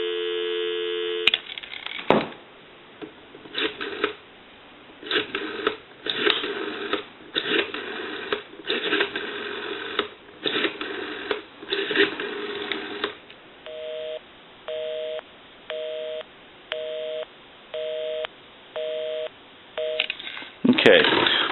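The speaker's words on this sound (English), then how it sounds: "Give you some dial tone." Telephone line sounds on a repaired rotary-dial Mickey Mouse telephone: a steady dial tone, then bursts of rapid clicking pulses, followed by a regular on-off repeating tone, clear and close with no voices.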